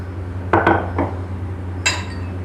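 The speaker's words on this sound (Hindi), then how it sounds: "सबसे पहले लेंगे कुंडी और डंडा" A mortar and pestle set out for making green coriander-mint chutney makes a few close, hard knocks and clinks in quick succession, then a brighter clink after a short pause, in a quiet room.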